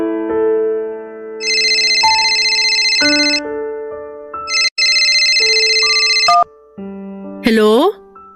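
A telephone plays a loud electronic melodic ringtone in a quiet room, ringing in repeated phrases of stepped tones with brief gaps.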